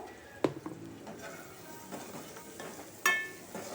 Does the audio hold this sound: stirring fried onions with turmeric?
yes